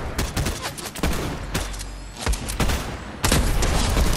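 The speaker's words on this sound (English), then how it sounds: "I gotta get back used to shooting this sniper." Loud gunfire bursts from a sniper rifle in a shooter video game, with sharp shot onsets at intervals over a dense, continuous wash of firing.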